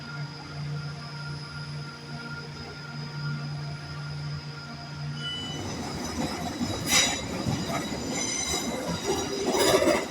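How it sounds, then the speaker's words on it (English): A Class 350 passenger train departs a station. A quiet hum steps up into a louder rumble of wheels on track with squealing tones, growing closer and stronger toward the end. "Another 350, which left in the opposite direction to the one our train was going to go in."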